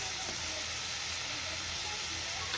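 Onions frying in a pan in a home kitchen, a steady close sizzle and hiss running unbroken throughout, with no talk over it.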